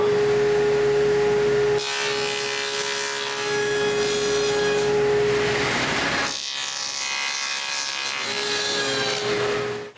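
A hand saw cuts notches through two wooden stair rails held together, a continuous close rasping with repeated strokes for most of the stretch, a brief pause, then more strokes before stopping.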